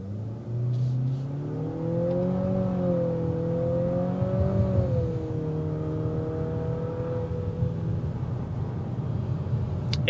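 A 2022 Nissan Altima SR pulls away from a standstill, its engine note climbing and steadying in rising harmonic tones, audible from inside the cabin and lasting nearly the whole stretch with no talk over it.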